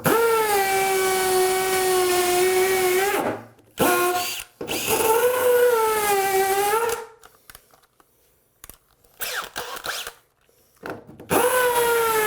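A power drill bores through floor tile for a glass door install, sounding in loud, close whining bursts that rise and fall in pitch, separated by pauses and short rubbing noises, ending with another run of the motor.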